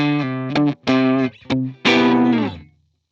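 Electric guitar through a Line 6 Helix amp modeler, reverb off, plays distorted, sustained chords and notes with short gaps between them, dry and close, ending with a held chord that cuts off cleanly.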